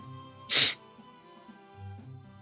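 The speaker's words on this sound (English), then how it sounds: "That was probably the most cartoony sneeze I've ever had." One sharp, bright sneeze bursts out over a quiet background of steady music, followed by a short low murmur.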